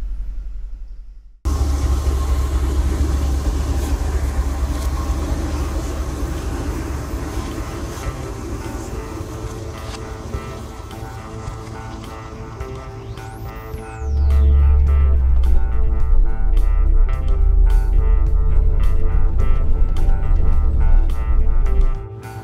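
A car with a Quadrajet carburetor on a test drive, its engine a continuous rumble with steady road noise that grows louder and heavier in the second half, with no talking.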